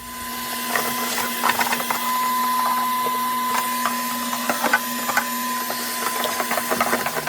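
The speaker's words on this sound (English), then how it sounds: "Get the car all vacuumed." A small vacuum cleaner whines steadily with a high motor tone, punctuated by clicks and knocks as it moves around a car interior.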